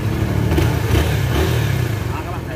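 A Honda Sonic 150R motorcycle engine idles close by with a steady low rumble, a little uneven in rhythm.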